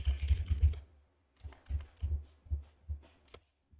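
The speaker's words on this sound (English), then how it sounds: "I cannot type." Keys on a computer keyboard are struck in quick close bursts, a cluster of clacks followed by a pause and then a slower run of evenly spaced taps.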